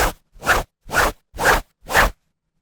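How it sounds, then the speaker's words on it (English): Five evenly spaced, close rasping scratch strokes across 10.2-ounce 100% cotton olive drab herringbone twill fabric, each a short, bright brushing swipe separated by brief silence, with no talk. "we do the scratch test, which is coming up right now"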